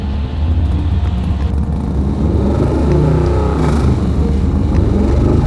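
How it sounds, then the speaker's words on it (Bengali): A large animated vehicle carrying a body drives off, its engine rumbling steadily and the tone rising and wavering as it pulls away. "লাশটা ভিতরে রাখতেই গাড়িটা বেরিয়ে গেল"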